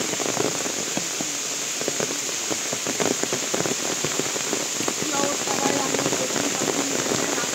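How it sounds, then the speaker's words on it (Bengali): Heavy rain pours down beside a pond, a dense, steady hiss of drops drumming on surfaces with scattered sharper splashes throughout, loud and continuous with no break. "আমরা আসার সাথে ঝমঝমিয়ে বৃষ্টি পড়া শুরু করলো।"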